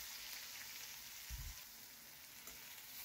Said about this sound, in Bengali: এবার ভালো করে পেঁয়াজটাকে ভেজে নেব।